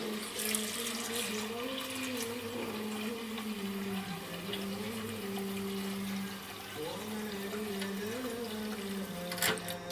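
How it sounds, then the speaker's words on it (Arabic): Water streams from a tap into a pot of chickpeas, a steady rushing pour with a shifting ringing tone as the pot fills, continuous and close. "نغطيها بقى شويه ميه جمال كده"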